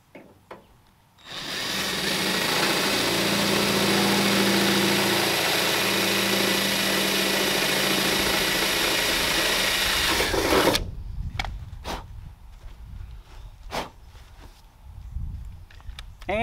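Larger drill bit boring out a hole in the underside of a Ram R/T during a dual side-exit exhaust install, a steady, loud whirring run of about nine seconds that stops abruptly, followed by faint clicks and handling noises.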